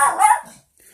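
A dog barks once, loud and close, a short sharp bark that tails off quickly into quiet, set off by hearing a rat near a lake.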